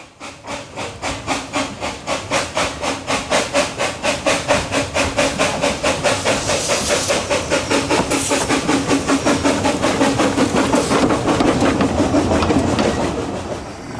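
Steam-hauled up train on the Talyllyn narrow gauge railway in Wales, with rhythmic exhaust beats pulsing evenly as it draws closer and louder, then sustaining a rumbling roar before easing at the end.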